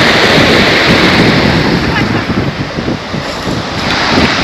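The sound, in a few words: wind and sea waves at the beach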